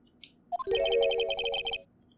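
Phone ringtone in a Phoenix Wright: Ace Attorney game session: a couple of short rising notes, then a quick, bright trilling ring for about a second before it cuts off abruptly.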